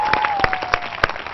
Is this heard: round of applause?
yes